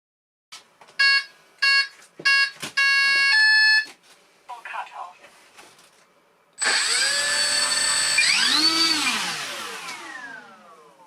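Electric motor of an Arrows Hobby 1100mm T-28 Trojan RC model airplane spinning its propeller, a loud rising whine that holds steady, following short beeps from the speed controller.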